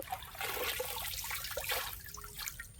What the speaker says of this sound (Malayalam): ഇത് വെള്ളം പോകട്ടെ